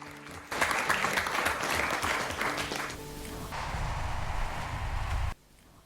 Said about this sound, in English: Please, a lot of applause for them so that they will give their speech